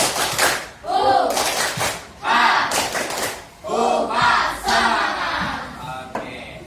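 A class performs rhythmic spirit clapping in short, synchronized bursts of claps alternating with chanted group shouts, separated by brief pauses, close and lively.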